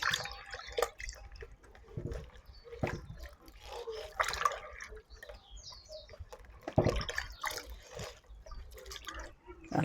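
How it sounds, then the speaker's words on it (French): Water poured and splashed over soybeans being washed by hand in a bowl, with irregular drips, trickles and wet rustling bursts close up, no talking. "Je remets de l'eau."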